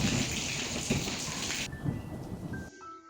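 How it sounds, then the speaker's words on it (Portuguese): Heavy rain pours in a dense steady roar during a thunderstorm, with low rumbling thunder underneath, before the sound cuts off abruptly. "quantas vezes no ano não deu aquela forte com trovões e relâmpagos?"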